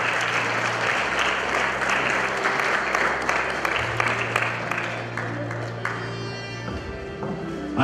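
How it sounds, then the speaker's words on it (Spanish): Loud, sustained applause from a quinceañera party crowd welcoming Joana Lojano and Henry Lazo, steady clapping across the whole stretch with a low musical hum underneath and some voices mixed in. "Los aplausos fuertes para ellos"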